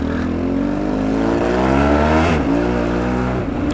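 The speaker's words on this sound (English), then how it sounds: "now the bike's warmed up, it's perfectly happy to dawdle about" A warmed-up carbureted motorcycle engine hums loud and close while riding, its pitch sliding up through the gears with a shift dip midway, continuous throughout.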